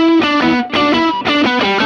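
A loud electric guitar through a Boss GX-700 effects processor's vintage overdrive setting rings out sustained chords with a warm, gritty distortion, changing chord twice in quick succession.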